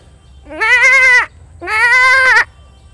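A man in Jhalokati, Bangladesh, mimics a baby goat with his voice, giving two loud, drawn-out nasal bleats close to the listener, each about three quarters of a second long, separated by a short pause.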